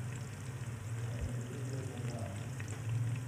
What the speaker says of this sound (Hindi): तेल गर्म करके मैंने प्याज डाला है और इसको ब्राउन होने तक पका लेते हैं।